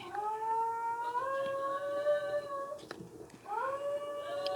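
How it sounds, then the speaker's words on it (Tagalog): A dog howls in long, wavering drawn-out tones, pausing briefly and then starting again, fairly close with steady background noise. "Sensya na po sa ingay, maingay po yung aso."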